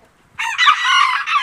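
A young rooster chick crows loudly and close by in one strained crow lasting about a second, with no talking.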